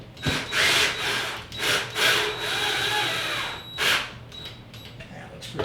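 Can light clips are tightened against a drywall ceiling, giving several short scraping, rubbing bursts from the fixture and tool close by, with a quiet gap between strokes.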